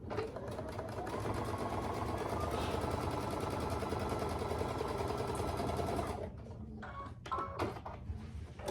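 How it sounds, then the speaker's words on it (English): A sewing machine stitches quilt blocks right sides together in a fast, steady run for about six seconds, then stops, leaving brief handling clicks and rustles. "I'm going to sew it right sides together."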